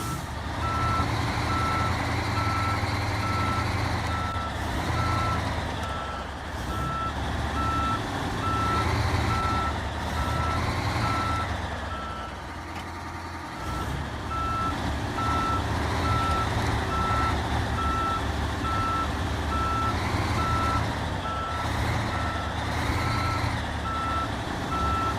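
A Chimera truck reverses in SnowRunner, its backup alarm beeping in a steady repeating rhythm over a loud, continuous diesel engine drone.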